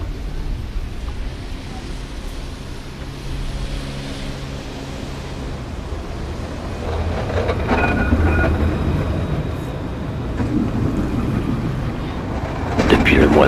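A tram rolls across the Pont de Pierre, a stone bridge in Bordeaux, as a continuous loud rumble with low mechanical hum and wind buffeting, growing heavier toward the end.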